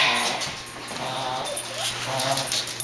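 A dog whimpers and whines steadily over a noisy, hissy background, with no talking.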